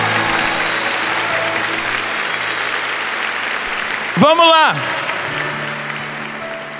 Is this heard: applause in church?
yes